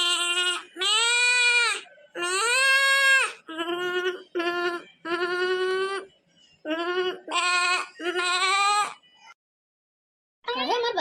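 Goat bleating over and over in a rural Awadhi village comedy scene, with long wavering, high-pitched bleats in a close, loud series, separated by brief gaps, one near-silent pause toward the end, and no talk.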